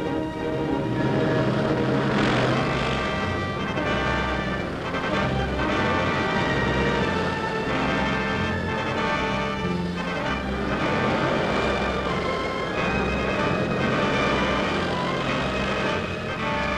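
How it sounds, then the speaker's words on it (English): Military aircraft squadrons taking off for the air front over Western Europe, a steady, loud engine drone with propeller tones sustained throughout, no voices. "These squadrons are leaving for the front, the great air front over Western Europe."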